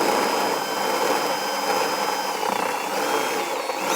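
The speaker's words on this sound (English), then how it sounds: "We're going to be using a burr bit just to waller that out enough to get that" A power drill fitted with a burr bit grinds out a hole to enlarge it while a trailer hitch is installed on a 2018 Subaru Outback, a loud, close, steady whine lasting a few seconds.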